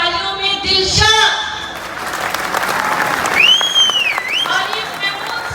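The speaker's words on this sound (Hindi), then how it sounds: "आप सबकी भरपूर तालियों में" Applause rises across the clip at a stage event honoring legends, a dense wash of clapping under a noisy crowd, with a few bright whistles or cheers cutting through near the end.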